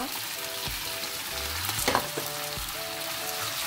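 Onion frying in hot oil in a pan for a Spanish-style chicken fillet and vegetable dish, a steady close sizzle with soft stirring scrapes and a few brief clinks.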